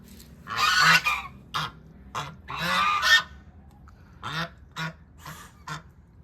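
Geese honk in a garden in Vietnam, a series of loud, close, harsh calls coming in short bursts and single blasts separated by quiet gaps.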